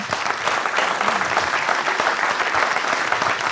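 A seated audience at a French talk on management and workplace happiness breaks into steady, dense applause, loud and continuous from start to finish, with faint crowd murmur mixed into the clapping.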